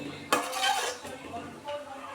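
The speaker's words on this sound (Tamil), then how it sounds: "கொத்தமல்லி போட்டு ஒரு தட்டி நல்லா கலந்து விட்டுடுங்க" A spoon stirs kaima urundai kulambu, a minced-meat ball curry with coriander added, in a pot, producing a sharp clink followed by soft scraping and swishing, fairly quiet and close.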